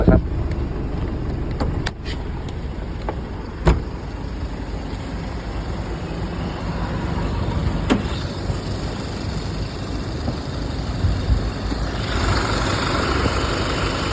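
Diesel 3.0-litre common-rail turbo engine in a pickup running steadily under the open hood, a continuous close rumble with a few sharp clicks and a brighter hiss rising near the end.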